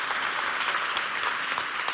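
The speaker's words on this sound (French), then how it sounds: "Applaudissez bien fort si vous êtes content d'être là." A crowd claps and cheers together, a dense wash of applause that holds steady for a couple of seconds.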